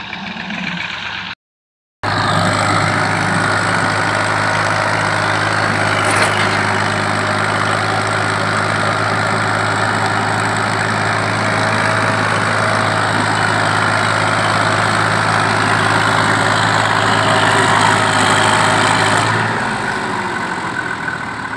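A tractor engine labors to drag a trolley out of waterlogged ground, a loud steady drone that holds under heavy load after a brief cutout near the start, running continuously without voices.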